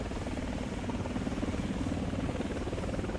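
An Apache attack helicopter in the War Thunder combat game gives a steady, loud rotor drone with a fast, rhythmic thudding beat. It holds constant throughout with no talking.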